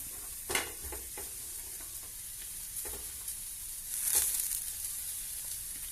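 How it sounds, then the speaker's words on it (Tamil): Pirandai (adamant creeper) fries in a little oil toward browning, with a soft, steady hiss. A few distinct scrapes and taps of stirring come through, and a brief louder sizzle swells near the end. "அடுத்தது பிரண்டை பெரண்டையும் அதே மாதிரியே போட்டு நல்லா பழுப்பு கலரில் நல்லா வதக்கணும்"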